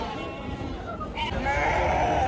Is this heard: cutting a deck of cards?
no